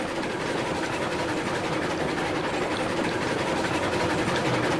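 A steady, loud mechanical rumble of a locomotive engine running continuously in the video game Railroads Online, with dense broadband noise and faint rhythmic rail clatter throughout.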